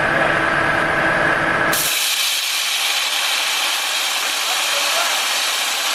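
A loud, steady 60,000 PSI waterjet spraying a steel spoon, hissing continuously, with a brighter, harsher broadband roar taking over partway through.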